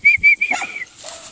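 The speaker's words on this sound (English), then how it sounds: "What are you guys barking at?" Dogs at home, including Charlie, Mags and Jax, give quick, high, whistly yips in a short burst of three, then a fainter whine trailing off, close by.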